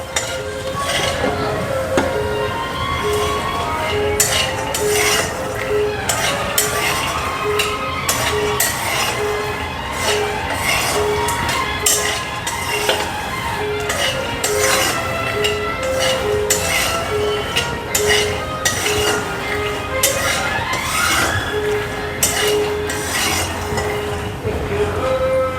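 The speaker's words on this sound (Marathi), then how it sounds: "आता छान खरपूस असे भाजून घेऊ आपण." Peanuts dry-roasting in a pan while being stirred, with continuous rattling, scraping and clinking of nuts against metal in an irregular rhythm, close and fairly loud.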